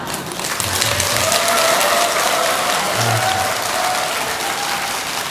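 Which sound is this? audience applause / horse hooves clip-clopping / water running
audience applause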